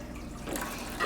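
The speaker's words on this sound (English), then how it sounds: "I'm going to start by siphoning water from the aquarium into a bucket." Aquarium water runs through a siphon hose into a bucket, a steady close trickle and gush of filling water that swells louder near the end.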